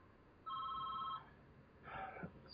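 Telephone ringing with an electronic double-tone ring, one clear burst up front followed by a fainter partial ring, heard indoors over a quiet background hum.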